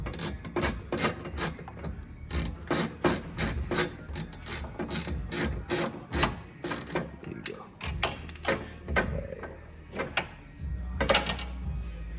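A ratchet clicks steadily as it backs a screw out of the carburetor on a mini jeep with a front-mounted motor. The close, dense mechanical ticking runs in bursts, with short pauses, the whole way through.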